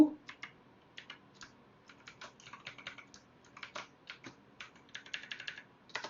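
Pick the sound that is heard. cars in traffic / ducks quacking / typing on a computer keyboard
typing on a computer keyboard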